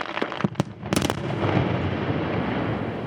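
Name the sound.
blasting explosions in open pit graphite mine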